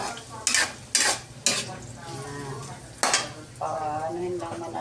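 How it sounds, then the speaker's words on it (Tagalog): Onions and garlic are sautéed in a pan: a steady sizzle under several sharp scraping stirs and metal clanks of a utensil against the pan, close and clear, with no talk. "Kaya ayan, magigisa na tayo. Ilagay na natin lahat mga kasipag yung mga sibuyas, bawang,"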